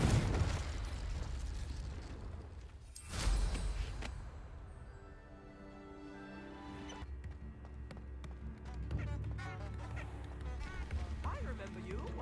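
Incendio fire spell cast in Hogwarts Legacy, a loud whooshing burst of flame near the three-second mark over steady game ambience and music, followed by quieter background tones.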